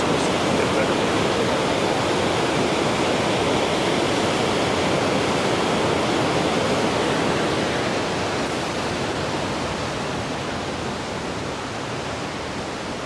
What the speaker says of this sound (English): See the water falling through.